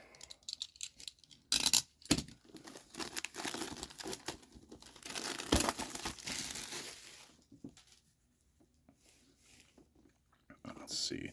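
Shiny plastic packaging on a toy is crinkled and handled up close in irregular rustling bursts, with someone talking over much of it.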